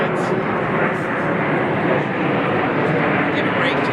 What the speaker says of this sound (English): Give a break to the plane going overhead.